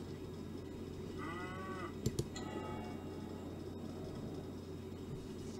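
A cow in the farming game McDonald's Simulator gives a single drawn-out moo, mid-distance, followed by two sharp ticks, all over a constant low ambient hum.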